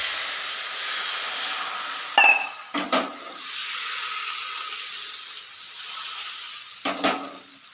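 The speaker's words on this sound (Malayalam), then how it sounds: "അടുത്ത് വീണ്ടും മാവ് ഒഴിച്ചു കൊടുക്കാം." Batter for a breakfast dish is poured onto a hot pan and hisses in a steady sizzle, broken by a few short scraping clatters of a utensil against the pan.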